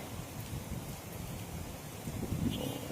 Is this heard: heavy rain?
yes